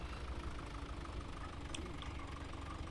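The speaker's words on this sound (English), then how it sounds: "And the engine sounds are very nice too on this now" An old four-wheel-drive tractor engine idling in a farming video game, a steady low rumble with a faint knocking texture, constant and even throughout with no talk.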